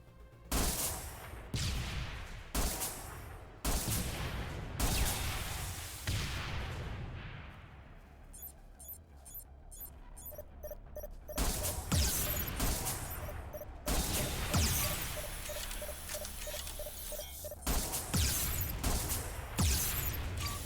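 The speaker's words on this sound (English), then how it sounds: "And finally, the Cobra missile launcher." Cobra missile launcher from a Halo game mod firing repeatedly, loud heavy launch blasts in irregular bursts with booming tails and brief mechanical reload clicks between volleys, no talk.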